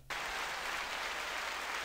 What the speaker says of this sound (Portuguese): a gente preparou para você um aplauso